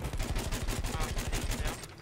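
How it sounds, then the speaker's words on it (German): Rapid, evenly spaced Battlefield 1 gunshots in a steady automatic burst, loud and close, fading out at the very end. "Das sind meine Schüsse."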